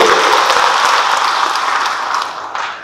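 An audience at an academic oration with Indonesia's Minister of Religious Affairs breaks into dense, loud applause that holds steady and then slowly thins out toward the end.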